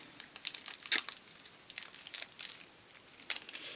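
Small salt sachets rustle and crinkle inside a handbag, a close run of irregular papery crackles and rustling bursts with no talk.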